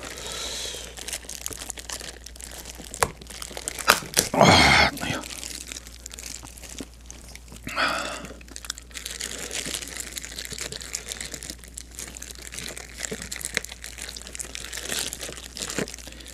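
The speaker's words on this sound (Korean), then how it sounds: "이거 얼마나 두꺼운지. 가위가 잘 나가지를 않아." Scissors work through a thick king crab shell, with steady crinkling and crunching, a few louder cracking snips standing out, all close up.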